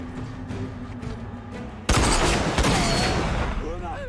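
Sniper rifle fire in the first-person shooter RAGE cracks out loud and close after a quieter stretch, followed by more echoing gunfire and ringing combat noise.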